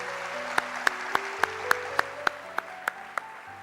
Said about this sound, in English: Let's have a round of applause for the Minister.